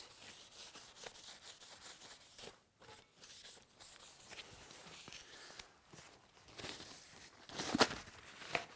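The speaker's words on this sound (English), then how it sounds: "I'm just using a little silicone wipe to make sure that's nice and clean and dust free" A small silicone wipe rubs over a marble fireplace surface in soft, irregular scrubbing strokes, quiet and close, with brief pauses and a louder swipe near the end.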